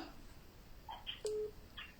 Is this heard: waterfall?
no